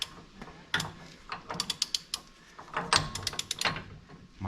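An impact wrench tightens a nut on a Jeep front axle, heard as several short clattering bursts of rapid hammering with quiet gaps between them, fairly close.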